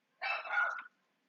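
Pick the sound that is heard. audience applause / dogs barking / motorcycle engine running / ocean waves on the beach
dogs barking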